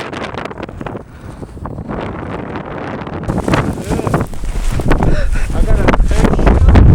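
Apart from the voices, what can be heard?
strong wind on a mountain while snowboarding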